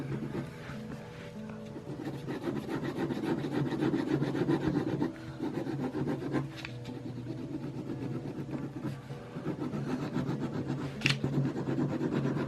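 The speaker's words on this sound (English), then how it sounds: "And this is not a neat drawing, it's just a lot of rough scratching." Ballpoint pen scratching roughly across paper while drawing a horse, a steady, close, continuous scrape with dense short strokes throughout and no talking.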